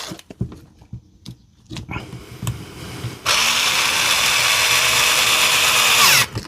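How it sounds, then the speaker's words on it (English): A power drill drives screws into the body of a DeWalt DCD805 drill, starting with a few short taps and clicks, then one steady loud whirring run of a few seconds that cuts off at the end. "We'll get in some screws just to hold it together first."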